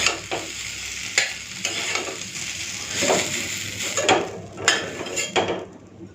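Potatoes and ivy gourd stir-fry in a hot pan, with repeated spatula scrapes and clanks over a steady sizzle in short uneven bursts.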